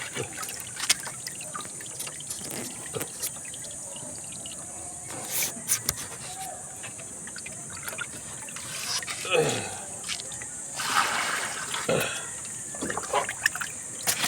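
Water drained from a lettuce growing container trickles and gurgles in uneven bursts, growing louder toward the end, with a steady high hiss in the background.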